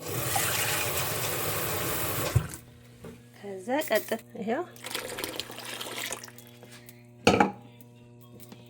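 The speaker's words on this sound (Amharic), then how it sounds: "ውሃ ጨምርበታለሁ እያያችሁኝ ማለት ነው።" Water pours and splashes into a thick mixture for a couple of seconds, then a voice speaks over quieter clinks and stirring.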